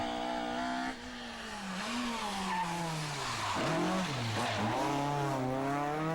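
A rally car taken flat out on a stage of the 2013 Ypres Rally, its engine screaming through rising and falling revs with a sharp dip under braking, then climbing hard again, loud and close, with tyre noise and no voices.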